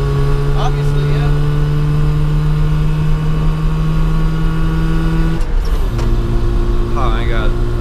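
A 1989 Rover Mini, a 30th Anniversary Edition with MKII conversion, drones steadily from inside the cabin while driving, its engine pitch dropping briefly around a gear change, under occasional voices.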